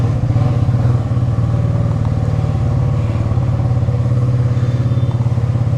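With the silencer off, a motorcycle engine pounds out a loud, steady, rapid exhaust beat nearby for several seconds, rising slightly at moments, with no one speaking.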